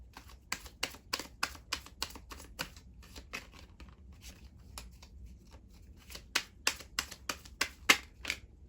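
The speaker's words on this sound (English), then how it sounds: "I'm going to go ahead and take another card to get a little bit more clarity." Tarot cards being drawn and shuffled make a string of sharp, close snapping flicks, some clustered in quick bursts and some spaced apart, quiet and with no talking.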